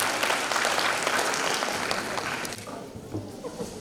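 Loud, dense audience applause at a ceremony marking the 30th anniversary of the CRC in Bihar, many hands clapping together close and continuous before fading and thinning toward the end, with a faint voice murmuring beneath.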